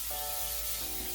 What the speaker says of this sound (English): We're going to spray our air fryer.